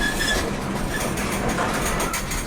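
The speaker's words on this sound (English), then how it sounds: "G929 finally pulls the whole train out of the siding and starts backing into the Cal-Maine" Freight train G929 reverses into the Cal-Maine spur, wheels rumbling and clicking steadily with a faint squeal of metal, loud and continuous with no voices.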